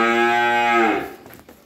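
Cattle on a beef fattening farm in Vĩnh Long, Vietnam, give one long, loud, close bellowing moo with a rich tone that holds steady for nearly a second before tapering off, with no talk over it.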